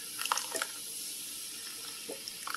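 Soda splashes and trickles over ribs in a pot, a few quick liquid spatters and drips at moderate volume against a quiet kitchen hiss.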